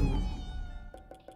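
A cat in the video game Ghostwire Tokyo gives a drawn-out, close meow, followed by three quick short mews in a row.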